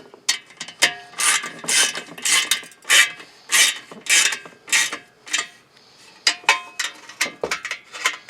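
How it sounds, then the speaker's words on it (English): Socket ratchet clicking in close, repeated bursts as 7/16 bolts on an aftermarket exhaust tip of a Nissan Titan pickup are tightened, loud rhythmic ratcheting strokes with short pauses between them, no talking. "Got a 7/16 wrench, 7/16 socket."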